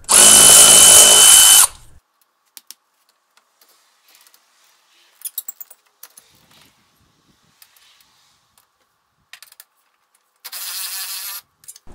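A power ratchet spins bolts loose on a Porsche 911 while rear spring plate work is under way. Two loud, close whirring bursts, one short and one shorter, are separated by quiet clicks and taps of handling.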